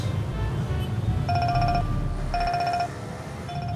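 A mobile phone rings in short repeated bursts of bright electronic tone, fairly close and clear, with pauses between the rings over a low background hum.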